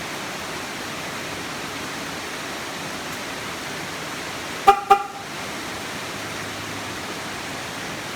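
Two quick horn chirps in a row from a 2002 Chevy Silverado unlocking through a Viper remote start alarm, crisp and close over a constant background hiss.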